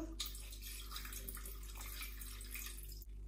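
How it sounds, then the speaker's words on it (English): Milk poured into a mixing bowl for hot cross bun or cinnamon roll dough, a soft continuous splashing trickle that ends with a brief knock. "Add the milk,"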